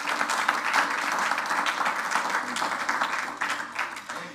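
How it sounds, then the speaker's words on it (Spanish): A congregation at a Spanish-language religious gathering breaks into sustained applause, a thick, even wash of many hands clapping that holds steady for several seconds before easing off slightly. "Denle un aplauso al Rey."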